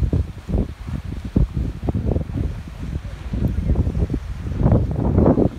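Strong coastal wind at Louisbourg Lighthouse buffets the microphone in a steady, gusty roar, with a dull rumble that swells louder toward the end; no one speaks.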